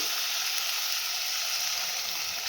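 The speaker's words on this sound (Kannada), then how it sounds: "ನಾನಿಲ್ಲಿ ಕಾಯಿಸಿಟ್ಕೊಂಡಿರುವಂತಹ ಬಿಸಿನೀರನ್ನು ಹಾಕ್ಕೊಳ್ತಾ ಇದ್ದೀನಿ" Hot water poured into goat leg masala frying in a pan, a loud, steady hiss and sizzle that stays dense and unbroken throughout, close up with no voices.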